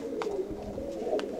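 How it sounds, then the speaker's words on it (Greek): Pigeons coo softly at a distance, a few low murmuring calls over a faint steady background with no talk. "Τα περιστέρια αυτά."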